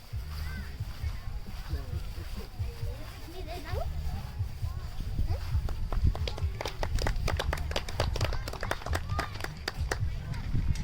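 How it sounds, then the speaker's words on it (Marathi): People clap in a park in America, a burst of quick, sharp claps in the second half, heard under a speaking voice and outdoor background noise. "आपण आलो म्हणून टाळ्या वाजवतात."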